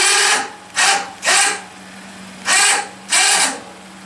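An electric winch lowers a Detail K2 (DK2) Avalanche snow plow mounted on a truck, running in five short, loud motor bursts separated by brief pauses.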